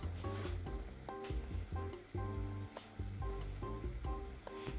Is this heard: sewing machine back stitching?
no